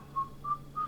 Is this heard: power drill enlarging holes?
no